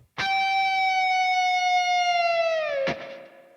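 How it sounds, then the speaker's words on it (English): A bright, sustained natural harmonic on an electric guitar rings out, its pitch sagging slightly downward near the end as the whammy bar is depressed, before a muted pluck and fade. "I'm going to touch the string, not pressing into the fretboard, mind, just touching it and let it ring out"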